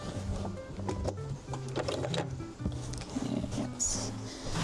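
A sewing machine stitches down a seam allowance, its motor whirring in a rapid, steady mechanical rhythm with brief slowdowns and pauses, heard up close.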